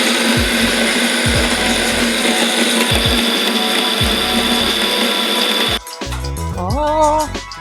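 A blender crushing ice for a frozen daiquiri makes a loud, steady motor grind with repeated low knocks of ice. It cuts off near the end, leaving a short burst of voice.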